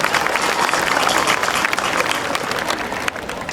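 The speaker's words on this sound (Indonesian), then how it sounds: "Tepuk tangan dulu buat kita semua." A crowd at the opening of a regional student sports week applauds: dense, loud, sustained clapping from many hands, close and even across the whole stretch, with no clear voices above it.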